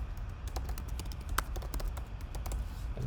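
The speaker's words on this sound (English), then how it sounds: "we can type stuff into the form" Steady keyboard typing at a computer while filling in a web form, a continuous run of quick soft key taps at moderate level with a low background hum.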